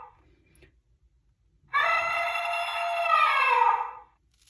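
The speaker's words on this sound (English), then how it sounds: "This is the sound of elephant." An elephant lets out one long, brassy trumpet call lasting a couple of seconds, loud and sustained, after a brief quiet start.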